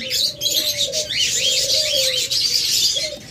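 A pair of ring-necked doves coos in soft, sustained low notes repeated several times, close, with a constant bed of high chirping from many small aviary birds such as cockatiels and diamond doves.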